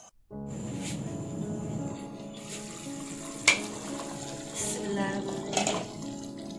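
Fish fries in a covered pan over low heat with a steady, soft sizzle. A few sharp clinks and lid knocks break in now and then, and the sound is heard from close by.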